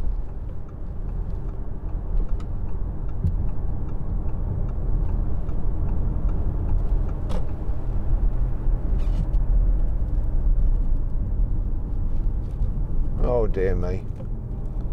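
A 2013 Audi A6 saloon with a 2.0 TDI diesel and Multitronic gearbox cruises along the road, producing a steady broadband tyre and engine rumble from inside the cabin while someone briefly speaks near the end.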